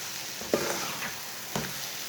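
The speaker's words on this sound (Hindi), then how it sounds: "अब अंडे को भी 2 मिनट तक पका लेंगे।" Eggs sizzle in a pan with pumpkin curry, a steady frying hiss broken by two distinct scrapes as the mixture is stirred, close and with no talking.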